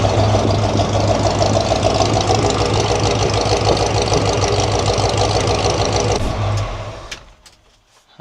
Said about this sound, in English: I just think it's just an old tired engine.